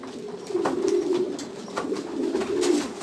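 Pigeons coo in a few soft, low, throaty phrases, close by and clear with no talk.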